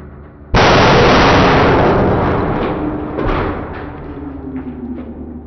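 Concrete bursts under a hydraulic press with a single sudden, very loud explosive crack that cuts in from quiet, followed by a long decaying rumble and a few smaller pops and crumbling fragments.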